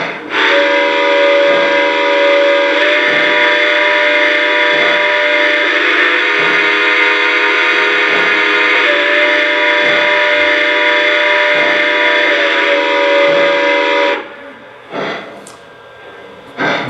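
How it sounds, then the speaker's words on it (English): Lionel LEGACY 2-10-4 model steam locomotive sounding its quillable whistle in one long, loud, continuous blast with a chuffing rhythm beneath, cutting off near the end. "The three levels of the quillable whistle are as follows."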